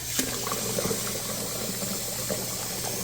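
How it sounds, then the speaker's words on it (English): Water pours steadily into fermented chicken feed in a container, a continuous splashing trickle heard up close with no voices. "And then I'll probably even add a little bit more water."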